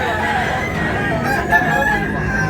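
A rooster crows amid a crowded cockfighting-bird market in Tabunok, Talisay, Cebu, with clucking fowl and a busy murmur of buyers around it.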